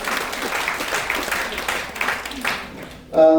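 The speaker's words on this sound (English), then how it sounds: "So please give them a round of applause." Audience at a Rotary women's event clapping in a steady round of applause that tapers off before a brief tone at the end.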